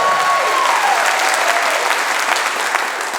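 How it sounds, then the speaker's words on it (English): Live audience applause at a podcast show, a steady wash of clapping from a sizeable crowd, loud and continuous, with a brief whistle or cheer at the start. "give us a round of applause if you've ever heard Do Go On"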